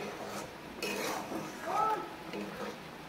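Paneer stirred and mixed with garam masala in a pan, with soft scraping and light clinks of a utensil against the metal over a low background hiss, fairly quiet and continuous.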